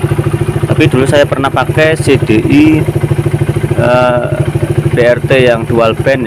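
Suzuki Satria FU motorcycle with a DSK CDI, held near its rev limiter around 13,500 rpm, giving a loud, steady high-pitched engine drone with a buzzy harmonic whine throughout, while a person talks over it.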